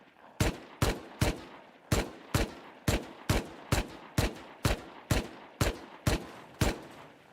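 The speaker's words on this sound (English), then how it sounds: "These turrets are going to be the death of us." Auto turrets in the video game Rust fire a steady series of sharp, loud single shots at an even pace, about fourteen cracks each followed by a short echoing tail, with no talk.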